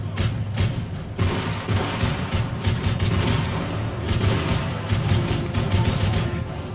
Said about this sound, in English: Who's shooting from all over there?